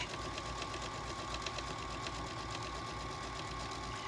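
A sewing machine stitches a pillow insert, its motor humming in a steady fast whir with a light mechanical clatter, close and even throughout the short stretch.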